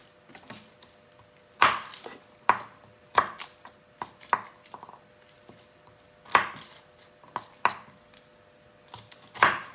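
Onion and garlic chopped with a knife on a board in a home kitchen, a run of sharp, uneven close chops with short pauses between them.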